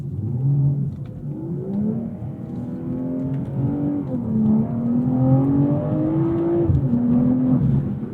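A BMW M340i with the B58 engine accelerates hard in Sport Plus, its engine note climbing loud and steady through rising revs with brief dips at gear changes from the eight-speed automatic, heard from inside the cabin with no talk.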